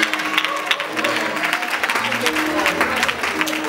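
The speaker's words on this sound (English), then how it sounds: "clap your hands to Dr." An audience claps steadily and fairly close at a church-style musical gathering, a dense, even patter of many hands that keeps going without a break.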